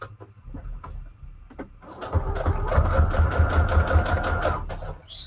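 A sewing machine runs a straight stitch while attaching fabric scraps to altered guest checks, with a steady motor whir starting about two seconds in and continuing for several seconds before stopping, after softer handling noises at the start.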